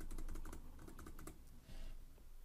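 Computer keyboard typing to delete text: a quick run of close key clicks in a steady rhythm for over a second, followed by a brief softer rustle, in a quiet room.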